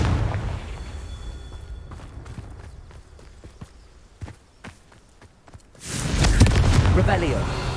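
Confringo fire spell in Hogwarts Legacy bursts into a loud, broad explosion near the end, after a stretch of quiet footstep-like thuds and taps.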